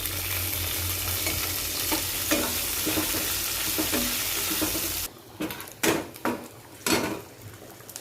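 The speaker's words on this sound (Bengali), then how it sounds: "কড়াইটার মধ্যে আমি একটু ঘি দিয়ে দিছি। তো এবার কিছু গরম মশলা গোটা দিয়ে দিতেছি, আর কিছু কাজু আর কিশমিশ দিতেছি।" Whole garam masala, cashews and raisins fry in ghee in a wok with a steady, close sizzle for about five seconds, then a few louder stirring scrapes and clatters as the frying quiets.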